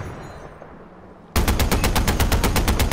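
Automatic gunfire in the video game Far Cry 4 aimed at a car, a sudden loud sustained burst of rapid, evenly spaced shots after a quiet lead-in.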